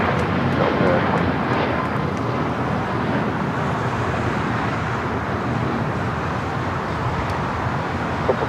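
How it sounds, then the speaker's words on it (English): Copa Boeing 737 MAX 9 jet taking off on runway 25 right at LAX, a broad distant roar of engine thrust that stays steady throughout, with faint background hum and no clear talk. "Now we'll go to the Copa 737 MAX 9 heading to Panama City, taking off on 25 right"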